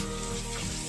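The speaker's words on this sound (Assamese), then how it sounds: "আৰু এই মাছৰ কণী আছিলে যে, সেইখিনি মই ভাজি লৈছোঁ এনেকৈ।" Fish roe frying in a pan with onion and garlic for an Assamese white gourd fish curry, giving a steady close sizzle throughout the short moment with no talking.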